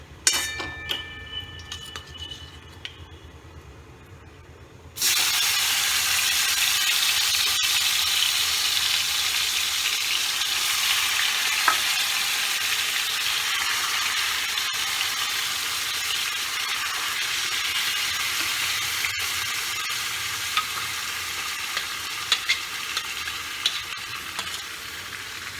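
Chicken hits a hot pan for biryani after a few quiet seconds, bursting into a loud, continuous sizzle with occasional scraping clicks as it is stirred.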